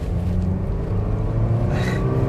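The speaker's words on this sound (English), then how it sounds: "let me give it some gas here as we merge onto this main road" An old Toyota Tacoma pickup's engine pulls hard while merging onto a main road, a steady, loud, close drone of engine and road noise that holds throughout, with no talking.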